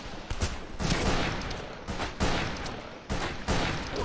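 Gunfire from the Western shooter game Fistful of Frags sounds as several sharp, loud shots in quick succession over about four seconds, each with a brief echoing tail.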